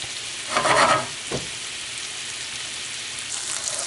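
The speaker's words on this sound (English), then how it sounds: "Now, most of the wine has evaporated. It's boiled down almost dry." A wine pan sauce boils down nearly dry with mushrooms in the pan, giving a soft continuous sizzle and bubble that stays quiet, with a brief louder stir-like burst near the start.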